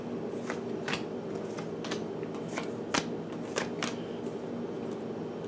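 A whole deck of playing cards is shuffled in a steady run of crisp, crackling riffles and snaps, close and fairly quiet, with no talking.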